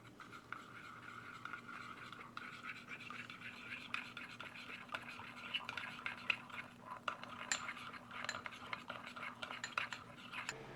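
Ingredients for a Thai basil pork stir-fry being mixed, with a soft, continuous scraping and light clinking of a utensil against a dish, faint and steady throughout.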